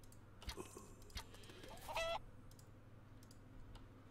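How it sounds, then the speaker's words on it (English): Chickens clucking in the video game Craft The World: a few faint, brief clucks and a short squawk over low background hum, with no talk. "Kill the chicken also."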